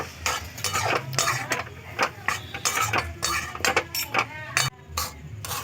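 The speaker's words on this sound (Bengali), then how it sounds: "আমি এবার সবটাই ঢেলে দেবো দিয়ে নাড়তে দেবো" Semolina pudding with milk stirred in a pot, a spoon scraping and clinking against the metal in quick irregular strokes, close and steady over a faint background.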